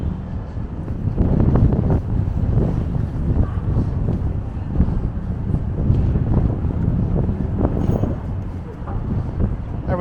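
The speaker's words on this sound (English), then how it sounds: "It's starting to get more windy out here." Steady wind buffeting outdoors on Bloor Street in Toronto, a constant low rumble with gusty bursts throughout.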